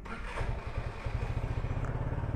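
An Easyride 150 motorcycle engine cold starts and runs roughly, with a fast, uneven low putter and mechanical clatter, loud and close with no talking.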